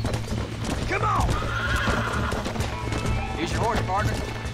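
In the 2010 video game Red Dead Redemption, a horse whinnies twice over steady clip-clopping hooves, with game voices talking in the background.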